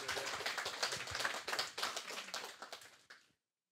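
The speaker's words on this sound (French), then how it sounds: "Et on peut les applaudir, s'il vous plaît." An audience applauds guests at a morning entrepreneurship event, a few seconds of brisk, fairly close clapping that thins out and stops abruptly.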